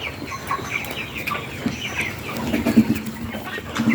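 Chickens cluck in short, scattered calls close by, growing busier toward the end, over low background noise with no talk.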